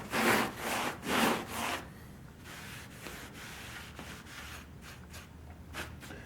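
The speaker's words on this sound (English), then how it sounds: "I'll have to sand this again." Wood bookcase sanded by hand: two loud, broad rasping strokes at the start, then softer, quieter rubbing continues at a steady low level, alone without talk.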